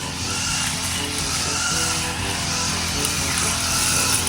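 A grass cutter drones continuously and loudly at a fish pond, a dense mechanical whine that holds steady throughout with no speech.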